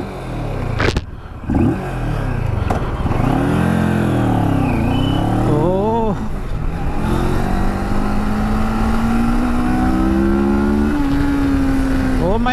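A CFMoto 650GT twin-cylinder sports tourer accelerates hard on the road, its engine note climbing through the gears in loud, close rising sweeps with brief dips at each shift, under steady wind rush.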